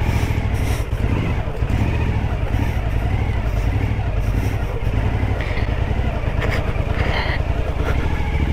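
Motorcycle engine churning through deep sand, running continuously and close with uneven revving and clattering, loud throughout with no talk.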